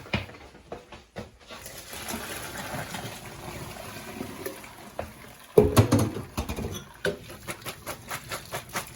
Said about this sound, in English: So pasta is now cooked. We're going to drain that pasta.